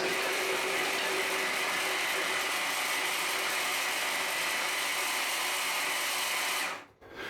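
A blender grinds frozen blueberries at slow speed, giving a continuous harsh mechanical whir and rattle up close that stops abruptly near the end.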